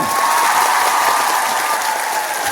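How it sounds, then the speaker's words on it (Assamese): Loud, dense crowd applause at a BJP rally in Maladhara bazar, a continuous roar of many hands clapping close by for the whole stretch. "এটা হাত চাপৰি জোৰেৰে"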